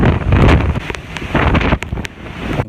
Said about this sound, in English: The winds are ferocious right now.